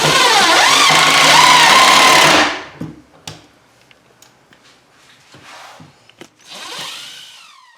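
A power drill driving screws to attach table legs with strap hinges on a DIY fold-down workbench, one loud continuous whir for about two seconds followed by short bursts and clicks.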